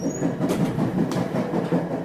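A passenger train travels on the rails across Canada, giving a steady, loud rumble with a regular clickety-clack of wheels over rail joints roughly every half second.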